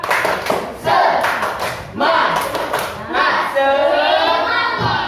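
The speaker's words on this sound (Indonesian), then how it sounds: "Tepuk semangat." Fifth-grade elementary classroom in Mataram doing a rhythmic spirit clap, bursts of group clapping and thuds in a patterned rhythm, mixed with children's voices calling along.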